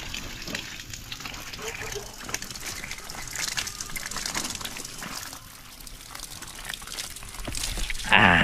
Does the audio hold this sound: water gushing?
yes